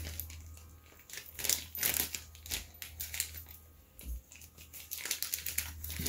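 Irregular crunching and crinkling as something inside a plastic Ziploc bag is beaten and crushed, a close series of uneven taps and crackles over a low background hum.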